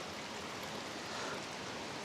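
Clean spring water welling up from underground near Ruskebe Waterfalls in Londiani, Kericho County, Kenya, a steady broadband rush of flowing water that holds even and fairly close throughout, with no voices.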